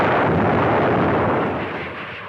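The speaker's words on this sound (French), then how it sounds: "et l'avion de John Derry explose" A jet aircraft explodes at an air show in an archival recording, a dense roaring blast that is loud from the start and slowly fades as its rumble dies away, with no voices.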